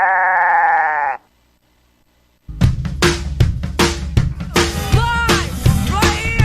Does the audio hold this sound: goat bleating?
yes